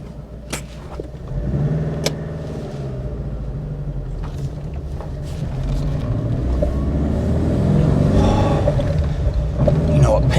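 An Alfa Romeo Alfasud Sprint Veloce heard from inside while driving: a loud, low engine rumble that builds steadily as the car accelerates, with talking over it.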